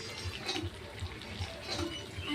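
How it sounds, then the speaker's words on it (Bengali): Water is poured into a pot of browned chicken curry, a soft, steady running and splashing that lasts a couple of seconds, faint and close with nothing else over it. "এখন আমি মাংসের মধ্যে জল দিয়ে দেব"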